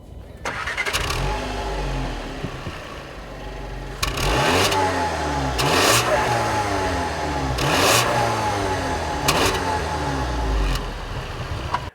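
A 2015 Volkswagen Jetta with a 1.8-liter turbocharged four-cylinder engine starts and revs repeatedly, the tone rising and falling in several close, loud sweeps over a steady idle, with no talking.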